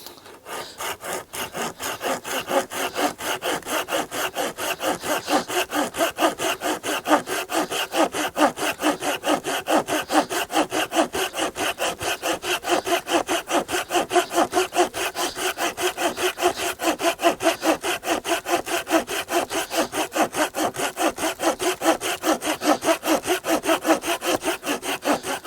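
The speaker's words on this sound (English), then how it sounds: "So let's get on with the sawing." A folding bushcraft saw cuts through wood in steady, rapid back-and-forth strokes, a continuous rasping rhythm heard close up for the whole stretch with no talking.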